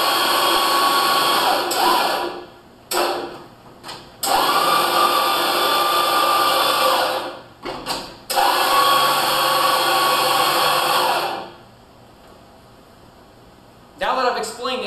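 PowerMate M-Series stair-climbing hand truck motor whirring in several steady, loud runs of a few seconds each, starting and stopping with short pauses between, alone without talk.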